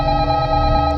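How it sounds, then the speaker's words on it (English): A phone rings loudly and steadily inside a shawarma truck in a video game, sounding as a continuous electronic ringing tone. "How am I getting a phone call from inside the truck?"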